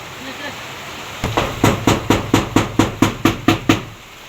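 Coconut water from a freshly opened young coconut drips strongly onto a surface, a close, steady run of sharp drops at about four per second that stops abruptly after a few seconds.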